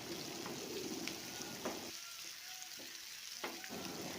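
Onions sautéing in a pan for an egg stir-fry, with tomato to follow: a steady close sizzle and crackle under occasional stirring scrapes, no talk.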